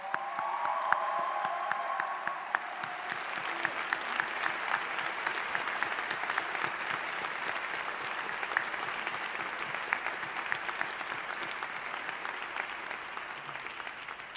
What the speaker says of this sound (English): So a round of applause for everyone involved in that event.